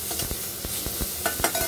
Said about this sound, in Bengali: মানে মশলা আলু যাকে বলে সেরকমই করে দিচ্ছি।